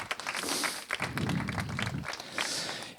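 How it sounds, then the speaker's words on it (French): An audience at an AI and HR awards ceremony applauds a finalist team, a faint, scattered patter of clapping lasting a few seconds. "Bravo, on peut les applaudir."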